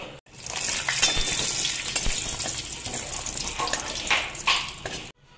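Cashews frying in hot oil in a home kitchen pan, a steady close sizzle with crackling bursts that swell near the end before cutting off.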